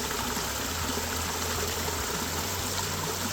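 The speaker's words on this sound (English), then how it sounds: "how this waterfall has a little bit of a deeper bellow to it" Water from a backyard water feature's waterfall spills steadily into a deep pool, a continuous broadband rush with a low, bellowing undertone, close and unbroken with no talking.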